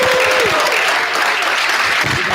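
Applause fills a school board meeting, a steady dense patter of many hands clapping at close range with a brief voice at the start.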